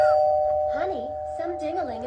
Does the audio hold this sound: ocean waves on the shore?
no